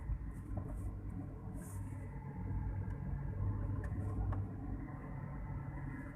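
Slow road traffic crawling at about 20 km per hour in front of the Battalion 641 company post makes a steady, low rumble of engines and tyres that swells slightly midway, with no voices.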